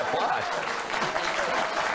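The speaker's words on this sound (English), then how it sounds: "Bill, hey, applause." Studio audience applause on a late-night comedy talk show, a short burst of clapping with cheers mixed in and a voice talking faintly underneath.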